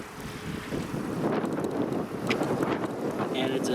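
Gusty wind buffets the microphone, a broad rushing roar that rises and falls steadily throughout.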